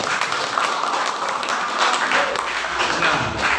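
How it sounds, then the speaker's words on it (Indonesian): Steady applause from a lecture audience at a college general lecture, a dense, even patter of many hands that holds at a constant level for the whole stretch. "Yang ini boleh tepuk tangan ini."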